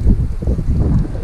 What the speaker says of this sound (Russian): Сегодня опять ураганный ветер